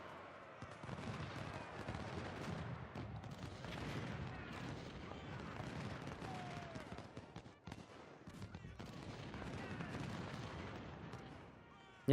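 Civil War battle in Ultimate General, with a 20-pound Parrot cannon and other artillery booming and rumbling continuously through a dense, steady barrage, one brief lull near the middle before the firing swells again.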